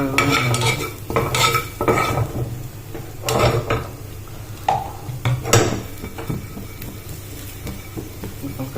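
Spicy shrimp seasoned with red chili powder being stirred in a pan, spatula scrapes and metallic clinks in irregular bursts over a faint sizzle, close and moderately loud.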